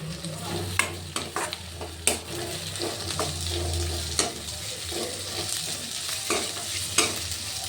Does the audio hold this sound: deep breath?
no